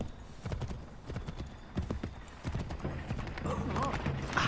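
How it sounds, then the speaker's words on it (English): A horse in the video game Assassin's Creed III clip-clops with steady hoofbeats and gives a whinny, heard under someone talking for most of the stretch. "The horse is getting annoying now."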